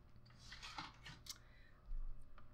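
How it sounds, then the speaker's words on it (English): Scissors snip through wrapped yarn in a few quick, quiet cuts, each a short crisp crunch, followed by a soft handling thump at close range. "then you cut off this end and cut off this end, and it makes for a quick way to cut your yarn"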